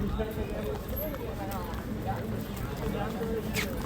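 Horse hooves clip-clop along a road on a Philippine shopping street, a steady trotting rhythm carried under nearly continuous nearby talk.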